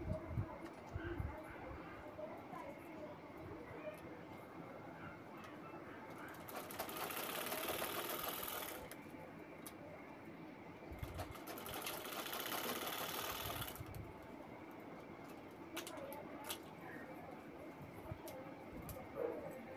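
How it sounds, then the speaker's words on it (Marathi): A sewing machine stitches a fabric bag in two loud bursts of running, separated and followed by quieter stretches of ambient room noise. "अशा पद्धतीने आपल्याला इथे शिलाई करून घ्यायची आहे"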